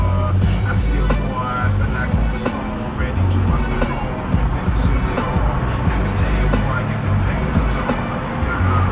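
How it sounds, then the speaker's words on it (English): A car driving home from work at night, with a steady low road rumble and engine drone running throughout, close and continuous, with faint background talk or sound mixed in. "Just driving home from work on tonight."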